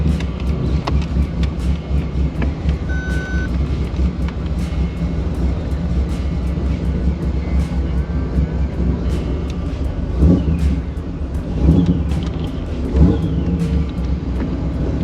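A car with a 1000 hp LS3 V8 engine drives off, its deep engine rumble droning continuously and loudly, with road and wind noise and occasional louder surges toward the end.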